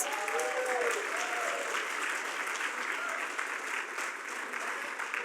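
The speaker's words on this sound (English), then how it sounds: "let's have one more round of applause for these outstanding classes and this year's Hall of Fame class" Audience applause at a Hall of Fame induction ceremony, a steady wash of clapping from a sizable crowd that fades gradually, with faint voices briefly heard early on.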